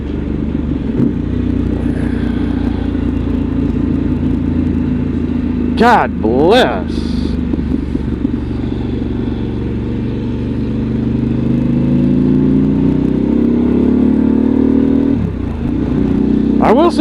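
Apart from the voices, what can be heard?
Harley motorcycle riding on road trip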